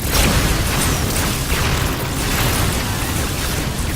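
Low-yield torpedo explosions from a Star Trek film battle form a dense, loud, continuous booming rumble that rolls steadily throughout, with no distinct separate blasts.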